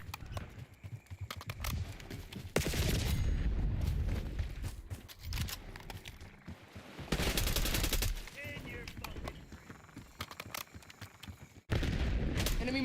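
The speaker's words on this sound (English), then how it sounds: "Enemy marksman shooting." Gunfire in a Call of Duty: Black Ops 6 multiplayer match on Nuketown, with repeated bursts of loud rapid shots separated by quieter stretches of game noise and occasional talk.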